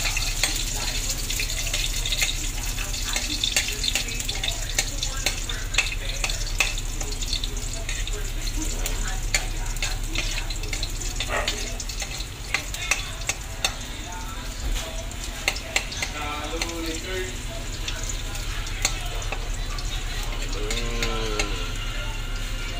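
Garlic frying in cooking oil in a home kitchen, a steady hiss and sizzle running throughout with a running water tap and dish clatter around it, and brief talk now and then.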